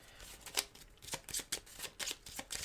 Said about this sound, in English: Then we're going to shuffle our cards.